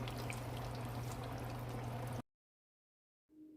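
Chicken thighs for Nashville hot chicken fry in a pot of hot oil, two at a time, giving a dense, steady sizzle that cuts off abruptly, followed by near silence.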